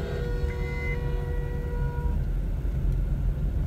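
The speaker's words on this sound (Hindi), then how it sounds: "पासे ही गड़िया ही गड़िया ने ट्रैफिक जैम हुई" Vehicles stuck in a traffic jam beside a livestock market in Gujrat, Pakistan, giving a steady dense rumble of engines with a horn-like tone sustained at the start, continuous and fairly loud with no talk.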